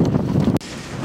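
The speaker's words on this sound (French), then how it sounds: "il fait super froid, il y a un vent de ouf" Strong, cold wind buffets the microphone with a loud low roar at a panoramic overlook above Klaksvik in the Faroe Islands, briefly dropping out before continuing a little softer.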